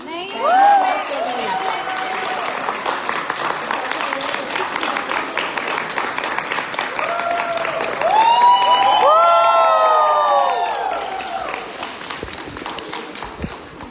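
Audience at a school creator-recognition event clapping steadily with cheering voices throughout, swelling louder toward the end, with whistles or shouts on top.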